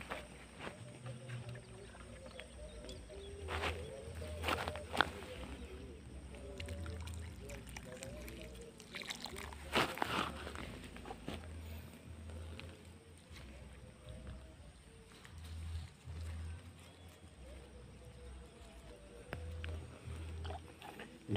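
Water pouring and trickling onto cabbage plants being replanted in a garden bed, a steady splashing wash with low rumbling handling noise underneath, close by and moderately loud.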